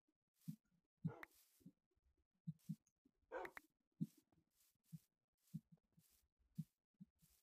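A hurt wolf in Minecraft gives repeated short, soft whimpering and yelping sounds in an irregular rhythm, faint and close.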